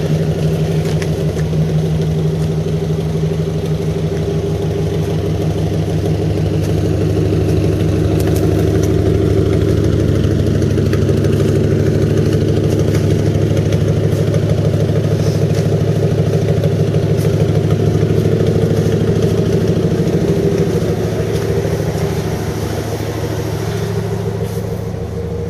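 A 1979 Chevrolet Caprice F41 Landau coupe idles steadily after a cold start following two years of sitting, a loud, close, even low engine rumble with light clatter throughout.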